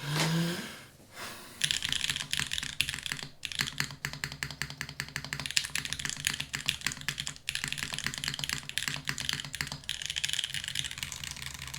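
Rapid, steady clacking of typing on a mechanical keyboard fitted with full-height keycaps, close and continuous with no voices.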